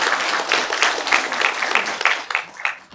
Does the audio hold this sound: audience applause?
yes